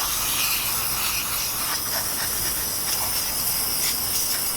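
Brake cleaner sprays from an aerosol can onto the front brake parts of a Ford E350 in a steady, close, continuous hiss, with no voices.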